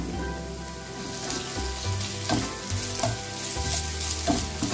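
Snail meat fries in a pan with ginger-garlic paste, a steady, close sizzle with crackling pops and occasional stirring scrapes throughout.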